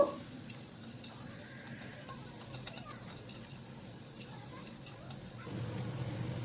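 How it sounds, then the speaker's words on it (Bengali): Onions fry in oil with cardamom, bay leaf, whole cumin and dried chillies, giving a steady, moderate sizzle that grows a little louder near the end. "পেঁয়াজটা হালকা করে ভেজে নেব।"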